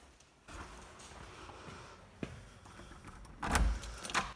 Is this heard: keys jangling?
yes